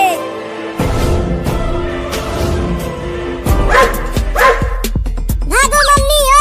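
Repeated dog barks, loud and close, sound amid a busy cartoon-style soundtrack with music, rising whistle-like effects and speech.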